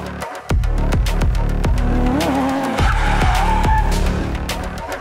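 A car driven by a stunt precision driver skids through a drift, its tires squealing in long, wavering screeches over a loud, revving engine that stays close and constant.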